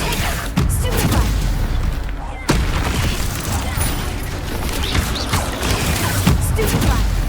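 Spell-casting combat effects from Hogwarts Legacy fighting spiders: dense, continuous booms and bursts with sharp impacts near 0.6 and 2.5 seconds, loud throughout with no clear speech.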